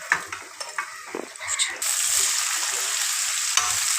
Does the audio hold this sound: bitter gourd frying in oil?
yes